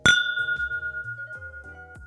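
A single gong struck once rings out with a bright sustained tone and slowly fades away, heard alone and fairly close with no talk over it.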